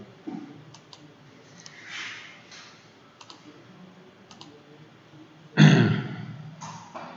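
Sparse computer mouse clicks and a few keyboard taps from someone working in CAD software, faint and spaced apart, with a louder thump near the end.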